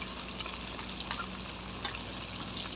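Pompano fish frying in a pan of hot oil, a quiet, continuous crackling sizzle with small pops, heard close and alone.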